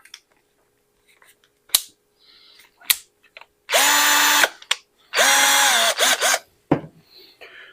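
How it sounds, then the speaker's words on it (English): A power drill bores pilot holes into a workbench top to mount a 3-inch swivel vise, whining in two loud, sustained bursts between scattered clicks and handling knocks. "Let's start drilling some pilot holes here."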